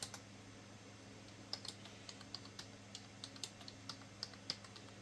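Quiet, irregular keystrokes and clicks on a computer keyboard, soft and close, over a low steady room hum, no talking.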